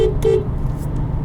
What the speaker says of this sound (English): For those of you who may be curious what the horn sounds like